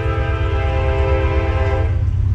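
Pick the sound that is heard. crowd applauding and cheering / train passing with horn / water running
train passing with horn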